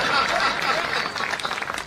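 An audience at a live music stage show clapping, a dense sustained applause that tapers off toward the end, heard alone.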